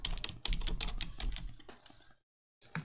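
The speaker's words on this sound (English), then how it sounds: "And I'll just put in my username." Close, steady clatter of a computer keyboard as a username is typed into a file on Linux Mint 20, with rapid irregular keystrokes for about two seconds, then a brief pause and a few more taps.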